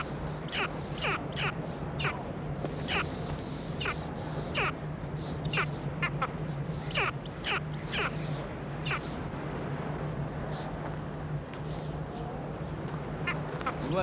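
An Antarctic bird in distress calls repeatedly, sharp honking and quacking cries rising over a steady low hum and background noise, fairly close and loud.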